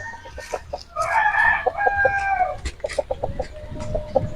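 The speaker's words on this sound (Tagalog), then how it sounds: "Yan po ang aming mga alagang panabong" Gamefowl fighting cocks crow and cluck close by, several bursts of calling overlapping with rustling and brief sharp noises from a farmyard pen.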